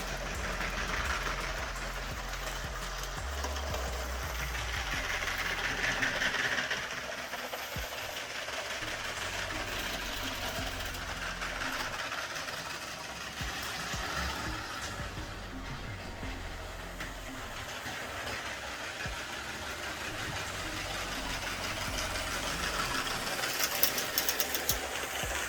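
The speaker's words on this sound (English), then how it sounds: "that train definitely moves" A motorized LEGO City train runs on its layout, a soft, steady mechanical whir and rattle of small motor and wheels on track, continuous and fairly faint throughout.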